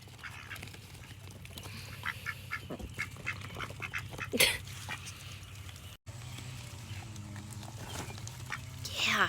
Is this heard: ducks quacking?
yes